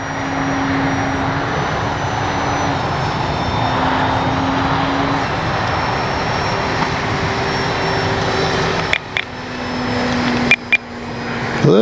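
An E-flite Piper Cherokee RC model airplane flies overhead at moderate throttle, its electric motor giving a loud, steady whine that shifts slightly in pitch, with outdoor wind noise and a few brief knocks near the end.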